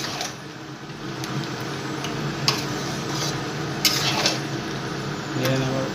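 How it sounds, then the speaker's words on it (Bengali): Country chicken meat being stirred in a frying pan, with steady sizzling and a few sharp utensil clicks and scrapes against the pan, close by and continuous, with faint voice in the background. "এরপর 2 থেকে 3 মিনিট নেড়ে নেবেন।"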